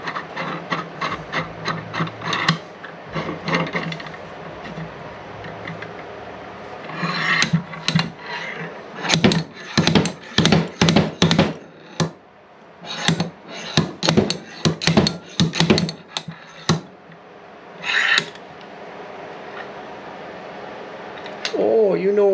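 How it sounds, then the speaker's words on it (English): Sharp repeated metallic knocks from a slide hammer pulling the kickstart seal out of a Kawasaki KX85 engine, coming in rapid bursts with pauses, while someone talks between strikes. "Easiest way I like to do these guys is just use a slide hammer on them."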